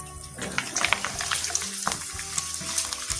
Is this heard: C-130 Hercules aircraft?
no